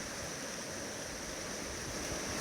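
Raging Sailors Creek near Daylesford rushes over bedrock beside a gold sluice, a steady, dense roar of turbulent water with constant broadband hiss and no break across the moment.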